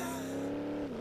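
Engine of a drag car missing both front wheels, spun in donuts across a field in BeamNG Drive: a steady, loud droning engine note that sags slightly in pitch at the end.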